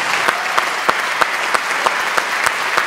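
Folk concert audience at a New Year's show clapping loudly and close, a dense crowd with periodic accented beats as many hands fall into a rhythmic pulse.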